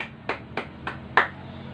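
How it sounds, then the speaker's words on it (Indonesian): Four sharp, evenly spaced claps, fairly soft and close, each a quick crisp smack in a quiet room. "Baiklah, tepuk tangan untuk Inka."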